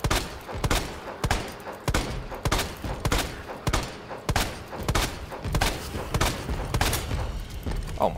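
Video game gunfire in rapid bursts, loud sharp repeated shots in an irregular rhythm across the whole stretch, with no speech over them.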